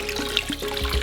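Water pours briefly into a pot for a simple sugar syrup, a close, short trickling splash with no talk.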